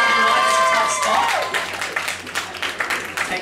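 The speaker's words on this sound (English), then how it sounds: "Come on, round of applause." An audience breaks into applause after a sustained tone and cheering, with scattered claps growing into an uneven, fairly close round of clapping.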